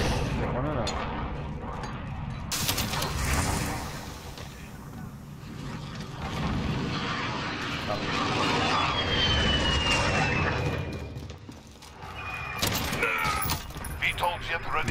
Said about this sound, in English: Another VTOL!